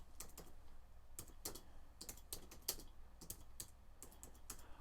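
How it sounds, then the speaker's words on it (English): Typing on a computer keyboard in a quiet room, irregular bursts of soft key clicks, some quick runs and some spaced taps, close and faint with no talk. "I'm typing it in here"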